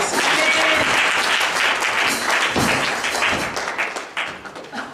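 A church congregation applauds during a service, dense clapping at full volume that thins slightly toward the end, with a few thumps and faint voices mixed in.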